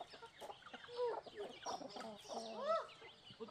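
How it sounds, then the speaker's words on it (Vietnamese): Chickens cluck and call on a farm in short, overlapping bursts at moderate distance, with no clear speech. "Đi xem con gà"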